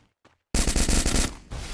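Rapid automatic gunfire from a shooter video game, a loud dense burst of shots lasting under a second after a brief quiet lead-in with faint distant pops, then continuing more softly.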